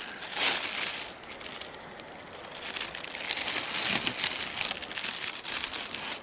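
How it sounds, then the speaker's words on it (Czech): A bone knife slices through a thin plastic bag, giving a steady crinkling and crumpling rustle with scratchy tearing bursts, close and fairly loud. "vidíte, že to jde, že to řeže opravdu i ten mikrotenový sáček"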